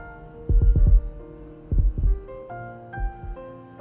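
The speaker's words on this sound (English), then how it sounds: "Now we're hearing our heartbeats." Video game heartbeats from Love and Deepspace, deep and thumping, pulse in pairs against a low hum, followed by sustained musical tones as the beats fade.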